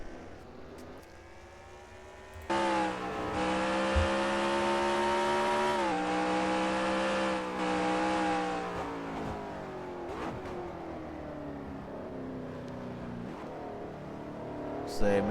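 Race cars on the Laguna Seca circuit in a racing video game hold a steady, loud engine drone that shifts pitch as they pass and accelerate. A voice talks over the engines.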